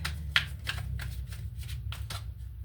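A Wizard Tarot deck shuffled by hand, quick repeated riffling card flicks close up over a low steady background hum.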